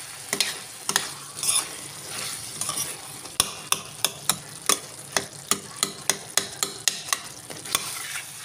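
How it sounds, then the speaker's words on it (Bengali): Mutton with spices and tomato being stir-fried in a pan, a ladle scraping and knocking the pan in a steady run of sharp clacks over a low background sizzle, close up, no voices. "সুন্দর মশলাটা মাংসের সাথে কষানো হয়ে গেল।"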